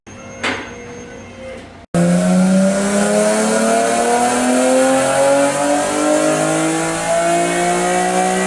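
After a brief pause, a tuned Nissan VQ35HR car engine on a dyno roars up hard and revs continuously, pitch climbing steadily, loud and close.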